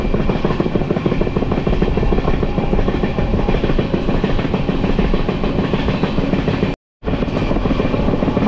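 The Venkatadri Express runs at speed between Kurnool and Tirupati, heard from on board as a loud, continuous rumble and rattle of wheels on track. It cuts out for a moment near the end, with no voices.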